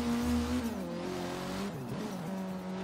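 Turbocharged Honda Civic Type R driven in Forza Horizon 3, a loud steady engine drone with shifting pitch as it accelerates and eases off, close and continuous with faint tire noise and no talking.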